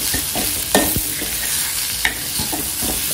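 Vegetables are sautéed in a pan, sizzling steadily close up while a spatula scrapes and knocks against the pan in irregular strokes, with no talking.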